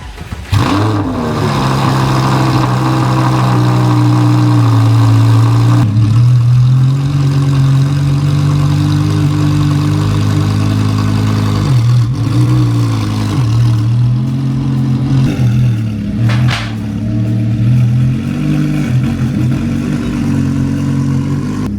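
A supercar fitted with BC Racing coilovers idles steadily with a deep, loud engine note throughout, with small revs and shifts in pitch as it creeps forward over jacks, no talking heard.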